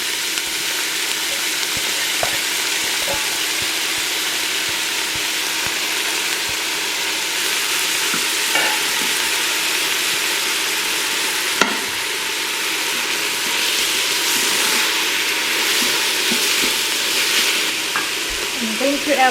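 Ingredients tipped onto browning garlic in a hot electric pressure cooker sizzle and fry steadily, a bright continuous hiss with occasional stirring clicks and scrapes, close and without talk.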